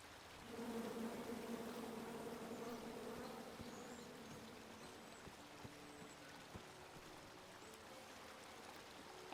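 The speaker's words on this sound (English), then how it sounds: "And then you chop down the tree full of angry bees?" Angry bees swarm and buzz around a tree in the King's Quest video game. The drone is steady and close throughout, with a few soft tonal game sounds beneath it.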